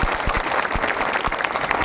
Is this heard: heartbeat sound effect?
no